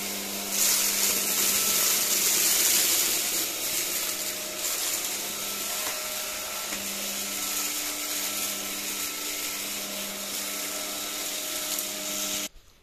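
An Ultenic U12 Vesla vacuum cleaner running steadily at close range, its whirring hum carrying a gritty rattle of dry lentils and pasta swirling inside, holding level before cutting off abruptly at the end.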